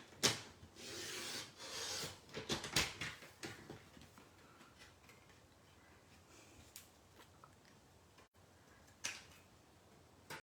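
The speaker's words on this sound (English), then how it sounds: "I'm just going to trim this up a bit" Paper card being trimmed by hand for a handmade greeting card, a few quick rasping cuts and rubs up close, scattered bursts separated by quieter pauses.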